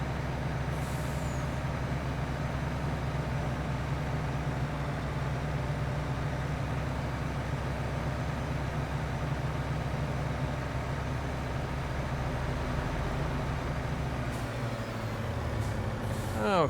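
Truck unloading in the video game Farming Simulator 22: a steady, loud engine rumble runs throughout, with brief air-brake hisses at the start and near the end.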